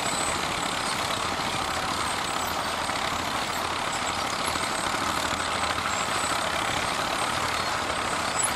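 A vintage Fiat 55C crawler tractor engine runs steadily while plowing a field at a ploughing festival, a dense, even drone with no breaks, heard at moderate distance and without speech.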